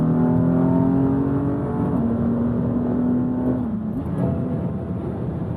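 A vehicle with a faulty transmission after a bad flash-tool update revs to about 4,000 RPM, a sustained engine drone with a steady tonal whine that shifts pitch abruptly twice as gears skip.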